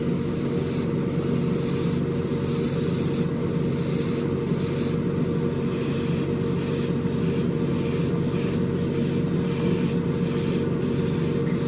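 Spray paint hisses steadily as a second, heavier coat goes onto the motor of an AMT 1967 Impala Street Machine model car kit, with short sharper bursts recurring about every second, close and alone.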